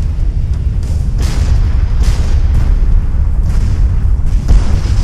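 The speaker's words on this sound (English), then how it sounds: "I was still too close to the explosion." Explosion effects from the space combat game Everspace, a dense run of booming blasts and crackling bursts rolling on continuously at high volume, with no speech over them.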